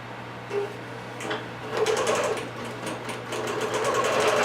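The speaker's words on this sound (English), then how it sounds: "it's going to ask me if I want to pull up the bottom thread, which of course we always do, and start to stitch" A Bernina Q24 computerized quilting machine stitches steadily, its fast mechanical whir and rapid needle ticking running continuously and close, rising slightly after the first second and holding at a constant pace with no talking.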